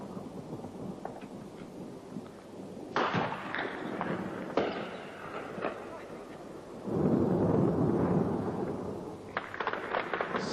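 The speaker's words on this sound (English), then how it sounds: "Siguen las explosiones en el aeropuerto" Explosions at an airport during the Falklands War: deep rumbling blasts and booming bursts roll out at a distance, with sharp cracks and a long low roar, while voices talk over them.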